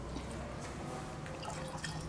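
Water drips steadily from a leaky bottle, a series of faint, irregular small drops over a noisy background.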